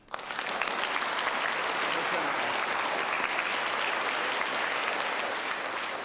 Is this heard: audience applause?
yes